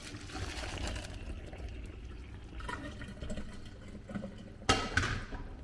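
Water poured into a sink, splashing and gurgling in uneven bursts, with a sharper clatter near the end.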